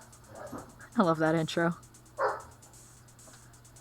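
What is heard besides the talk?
dogs barking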